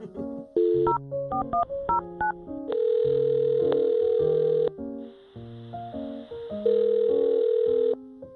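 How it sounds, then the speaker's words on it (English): Phone dialing on a radio call-in segment: a rapid sequence of loud touch-tone beeps, then sustained tones and further dial beeps, clean and close with no talking. "I'll dial her phone number right now and see if we can find out why she ditched you"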